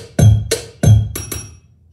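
Programmed drum groove in double time built in Soundtrap, a few punchy kick and snare hits in quick succession, close and dry with no voices.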